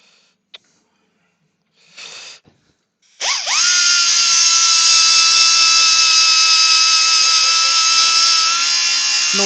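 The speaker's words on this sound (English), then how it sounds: "let's get it sanded up" A power sander starts up with a sharp rising whine, then holds a loud, steady, high-pitched electric drone for several seconds, following a few faint knocks and rustles.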